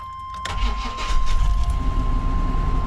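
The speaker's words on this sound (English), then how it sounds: "she runs, but she's got a misfire." The engine of a high-mileage service truck, running with a misfire, cranks and catches, then keeps rumbling at a steady idle close by with an uneven low throb.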